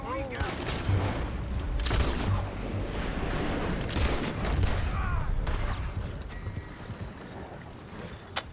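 Gunfire in Red Dead Redemption 2 during a wagon robbery, with sharp shots spread through the clip amid galloping horses and busy game noise, under brief shouted talk.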